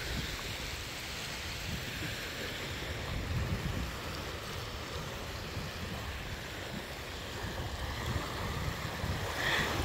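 Sea waves washing onto a beach in Italy, a steady broadband wash of surf with wind, moderately loud and continuous, no voices.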